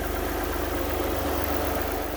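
An Alfa Romeo GTV V6 idles steadily after a rebuild, a loud, even, low mechanical hum with a faint rhythmic pulse and no voices.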